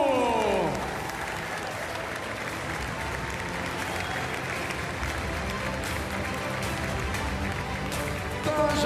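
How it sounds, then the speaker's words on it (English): Arena crowd at an international horse-driving competition in Lyon applauding a French carriage driver, a sustained broad wash of clapping and crowd noise, with a low rumble and a falling tone at the start. "pour qu'on entende des applaudissements, s'il vous plaît, pour Benjamin Aillaud"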